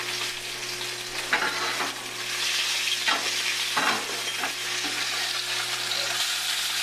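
A salmon fillet frying in a hot pan, producing a continuous close sizzle broken by a few louder scrapes and spatters as it is moved, with no voices.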